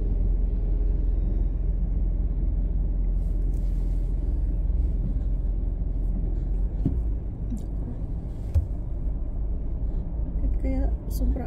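Heavy low engine rumble from slow road traffic in a Rockland shopping center area, heard steadily from inside a vehicle, with a few soft knocks and clicks over the drone.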